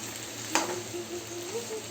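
A spice mixture sizzles in a hot pan as it is stirred, with one sharp scrape of the spoon against the metal early on over a continuous close frying hiss.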